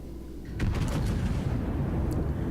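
Warship guns firing in World of Warships, a single heavy booming salvo that rolls into a sustained low rumble, close and loud, with faint crackling bursts after it.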